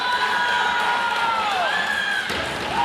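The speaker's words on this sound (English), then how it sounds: "the crowd's making some noise here" A crowd at a Michigan pickleball league match cheers and shouts loudly, whistles and high voices rising over a continuous roar, with a brief dip before it swells again.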